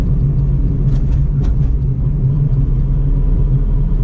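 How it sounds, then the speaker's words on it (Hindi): A car approaching on a highway near Moradabad at night, heard from inside a moving vehicle as a steady, loud low rumble of engine and road noise throughout. "ये आगे कोई गाड़ी आ रही है"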